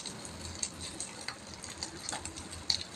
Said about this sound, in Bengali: এই যে দেখো কত সুন্দর বেগুন ভাজা হচ্ছে